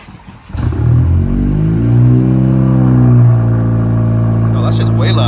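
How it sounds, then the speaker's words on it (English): A Honda Civic Si with a Ktuner tune cold-starts: a brief cranking clatter, then the engine catches and settles into a loud, steady high idle that rises slightly before holding, with a voice briefly over the end. "first cold start"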